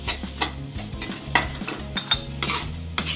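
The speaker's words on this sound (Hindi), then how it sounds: "अच्छे से इसको भून लेंगे" A spoon scrapes and clatters against a pan while spiced pav bhaji masala roasts, giving rhythmic metallic stirring strokes over a light sizzle, close and fairly loud.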